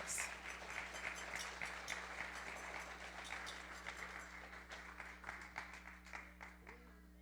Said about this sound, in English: join me in welcoming Dr. Tamra Butler to the podium with a round of applause